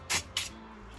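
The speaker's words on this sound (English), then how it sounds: "sprays the bottom side of that pump" Two short, sharp hisses of an aerosol spray cleaner hit the bottom side of a fuel pump out of a Foxbody Mustang with a 347ci engine, close and distinct, followed by quiet.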